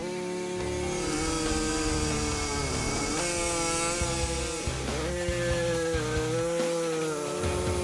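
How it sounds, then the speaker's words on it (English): A body saw cuts through a steel bumper mount on a Pro Street Dodge Dart, a steady, loud, close rasp that runs for the whole stretch with slight changes in pitch and no talk. "we can use the body saw to make the curved part of the cut."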